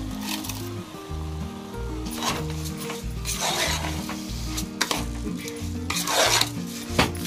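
Washed rice is stir-fried in a pan, with rhythmic scraping and sizzling from a spoon working the grains, close and fairly loud over steady music.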